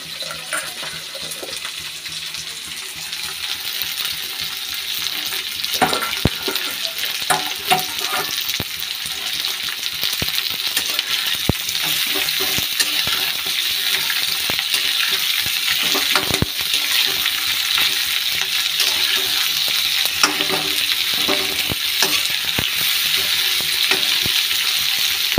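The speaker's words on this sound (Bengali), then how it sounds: "ভাজা হয়ে যায় ঝিঙেটা।" Ridge gourd frying with potato in a hot pan, a steady close sizzle with crackling pops and occasional stirring scrapes running continuously for the whole stretch.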